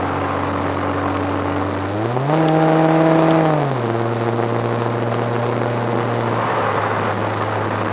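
A car engine hums steadily, then revs up briefly and settles back to a constant drone, close and loud from inside the vehicle.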